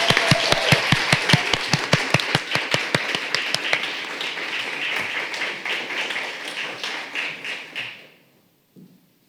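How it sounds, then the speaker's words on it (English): An audience at an artist panel talk applauds: sharp, quick claps begin close and rhythmic, swell into a fuller round of applause, then thin out and stop, leaving a brief quiet tail. "can we give the artists and the co-curator a big round of applause?"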